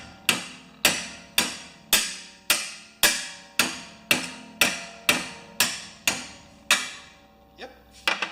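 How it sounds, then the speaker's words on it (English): Heated metal struck hard with a hammer, about a dozen loud ringing blows in a steady rhythm, each decaying quickly, followed by a few lighter taps at the end. "I may have to get a bigger hammer."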